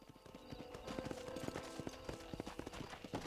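Rapid, rhythmic hoofbeats of a horse clip-clop steadily at a quick gait in the Red Dead Redemption video game, close and clear against faint background sound.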